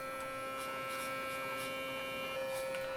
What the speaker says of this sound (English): listen closely, you'll see how the toothbrush sounds.